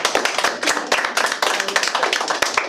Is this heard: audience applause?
yes